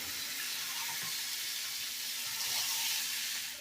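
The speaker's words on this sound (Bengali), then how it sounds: "আঁচটাকে একটু লো ফ্লেমে দিয়ে রাখতে হবে, দিয়ে আবারও নাড়াচাড়া করে নিতে হবে।" Chira mixture with chopped coriander cooking on a low flame, a steady soft sizzle with faint stirring scrapes, continuous and close, with no voices.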